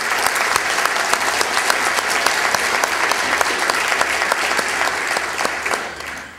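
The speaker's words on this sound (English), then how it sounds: "Can we give them all a round of applause one more time?" A church congregation at a Youth Sunday worship service gives a loud, sustained round of applause, dense clapping from many hands filling the room steadily before tapering off at the end.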